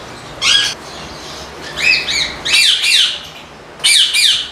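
Indian ringneck parrots squawking around their breeding nests, with loud, close, harsh calls coming in short bursts of two or three, separated by brief quieter gaps.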